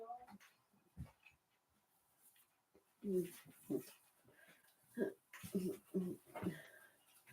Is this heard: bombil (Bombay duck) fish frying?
no